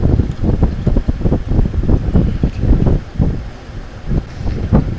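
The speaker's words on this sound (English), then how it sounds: "I think my camera will catch my fan over there blowing so hard, so making noise" An electric fan blows hard nearby in a garage where an ABS module is being installed on a 2011 Nissan Frontier, giving a steady, gusty rushing roar with buffeting wind noise against the microphone throughout.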